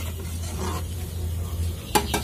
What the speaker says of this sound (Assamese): এতিয়া মই পুনৰ অলপ লৰাই দিম